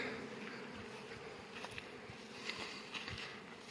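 Honeybees hum steadily around the hives of an acacia-and-rapeseed apiary of about sixty colonies, a dense, even outdoor drone with a few louder close passes and no talk.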